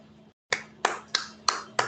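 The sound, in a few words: audience clapping for a session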